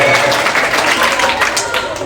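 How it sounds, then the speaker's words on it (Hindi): Audience clapping for Ramesh at an indoor talk on raising children, a brief burst of close, lively applause with people's voices mixed in. "जोर से ताली बजाओ रमेश के लिए।"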